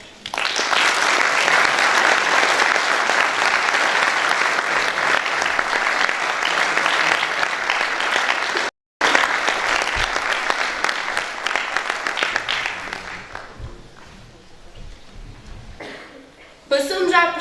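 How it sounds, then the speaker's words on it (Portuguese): A warm, sustained round of applause fills the room at a round-table event for the Portuguese League Against Cancer on Pico Island, dense clapping that breaks briefly, resumes and then fades away, with speech at the end. "Para eles, peço uma calorosa salva de palmas."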